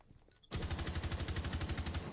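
Rapid automatic gunfire from a video game, a sustained burst of evenly spaced, punchy shots that starts abruptly after a quiet moment and continues steadily to the end.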